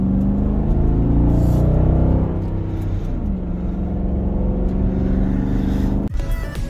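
A 2021 Dodge Durango SRT 392 V8 towing a car trailer gives a loud, deep, steady engine drone that climbs under load, drops in pitch around a shift, then holds a heavy rumble with no talk.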